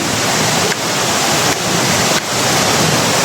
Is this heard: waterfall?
yes